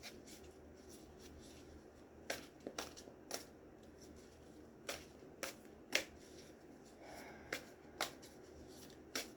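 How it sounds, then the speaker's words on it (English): Cat Tarot cards are shuffled in a quiet room, close by, with a series of soft papery riffles and taps spaced irregularly, and no talk. "Let's shuffle."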